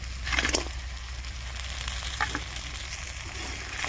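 Fish head and potato pieces sizzle steadily in hot oil in a pan, with a few sharper crackles and stirring scrapes, close and moderately loud.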